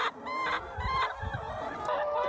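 Hens clucking in a coop during egg collection, a close, busy run of overlapping clucks and squawks with no talk.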